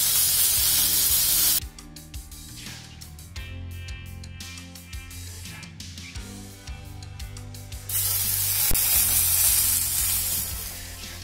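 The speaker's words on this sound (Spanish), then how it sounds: "en una sartén antiadherente bien caliente, vamos a marcar nuestro lomo por todas partes para que se quede doradito" Pork loin sears in a very hot non-stick frying pan, giving a loud steady sizzle that drops quieter and crackles for several seconds before surging back to a full hiss.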